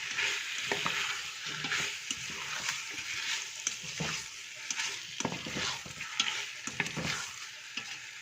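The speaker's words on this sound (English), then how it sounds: "I will fry it a bit with the oil because then it releases its very nice color and taste" Tomato puree frying in oil for a Persian yellow split pea stew, a bright continuous sizzle broken by repeated scraping stirs of a spoon, close up and without voices.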